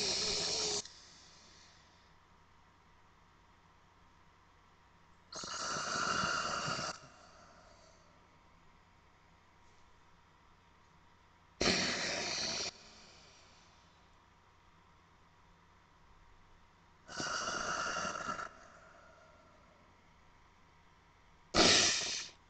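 Nasal breathing exercise with alternating nostrils, five loud hissing breaths through the nose, each lasting about a second, spaced roughly every five to six seconds with quiet between.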